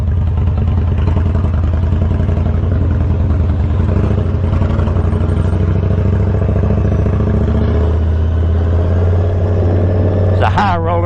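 A Victory motorcycle being ridden gives a loud, steady engine rumble with wind rush and clatter that stays constant throughout, close to the listener.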